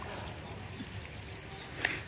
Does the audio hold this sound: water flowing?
yes